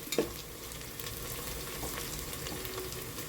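Onions frying in a pan for mutton rogan josh, a continuous close sizzle with soft scraping as they are slowly stirred and browned, and one sharper clink of the spoon at the start.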